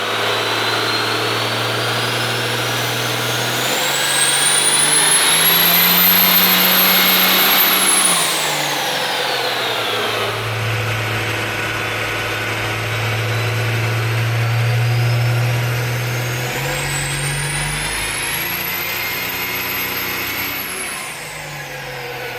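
A Cummins diesel truck engine fitted with a bigger turbo runs hard on a chassis dyno, the loud sustained roar climbing through two long pulls with a rising turbo whistle and spool, alone without talk.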